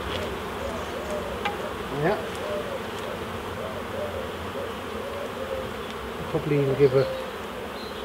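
Honey bees buzz in a steady, close swarm drone while hives are being united outdoors, with a few louder passes near the end and someone talking briefly over the hum.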